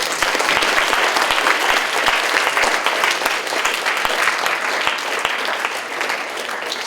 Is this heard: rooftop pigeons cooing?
no